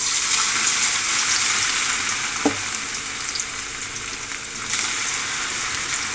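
Cauliflower pakodi frying in hot oil, a steady dense sizzle with a brief stir or clink midway, heard close and alone without speech.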